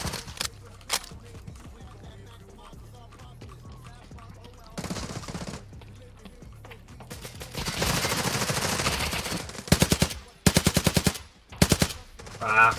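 Video game gunfire with rapid automatic bursts and single shots, quiet and sparse at first, then dense sustained firing and sharp loud bursts toward the end, with a voice talking early on.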